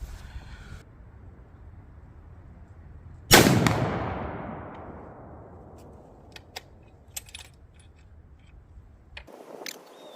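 A single sharp rifle shot fired at a 90-yard target through a CVLIFE 6-24x50 scope, loud and close, with a long fading echo and then quiet small clicks.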